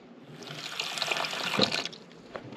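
Tap water runs steadily as chicken of the woods mushrooms are rinsed in a sink, a continuous splashing flow that swells briefly in the middle; no one speaks.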